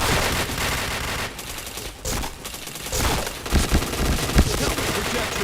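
Video game shooter gunfire: dense bursts of rapid automatic shots and fusillades, loud and close, with brief pauses between volleys and a voice speaking underneath.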